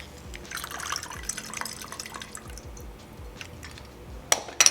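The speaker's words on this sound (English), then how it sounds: "I'm going to be juicing half of a fresh cut lemon, which is about 1/2 ounce." Juice from half a fresh-cut lemon drips and trickles into a cocktail glass, soft liquid patter running throughout, with a brief louder splash of glass and liquid near the end.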